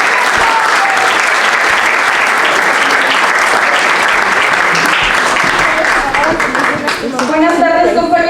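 Loud, dense audience applause for Rocío at a commemorative event for Emiliano Zapata's birth anniversary at a journalists' club, steady clapping from a crowd that thins near the end as voices emerge.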